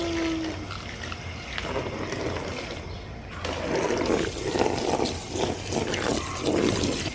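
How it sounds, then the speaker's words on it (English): Water sprays steadily from a hose onto a bin of freshly harvested baby carrots to rinse off the dirt, a continuous hiss that swells louder in the second half. "We gotta wash all of them. Yep, spray the carrots."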